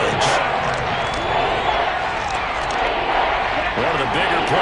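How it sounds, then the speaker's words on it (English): Stadium crowd roar in a football video game between the Chiefs and the Raiders ahead of a big third down, a dense, continuous wash of noise with voices audible in the mix. "The crowd getting into it as we come up on a big 3rd down."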